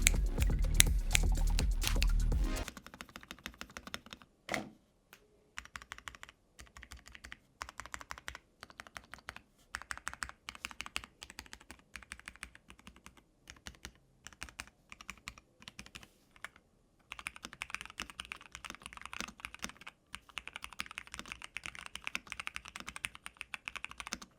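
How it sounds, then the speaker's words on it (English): Clacky keystrokes on an MW65 mechanical keyboard tap out in steady, irregular bursts, close and crisp, after a brief loud noisy opening. "it's time to do a keyboard sound test because I know you guys want to know how nice this sounds."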